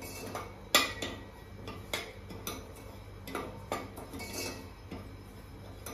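Coarsely ground rice is dry-roasted in a pan over low heat, heard as light, irregular clinks and ticks of a spoon against metal over a quiet background.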